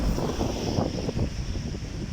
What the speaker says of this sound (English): you see it's windy here in Markaska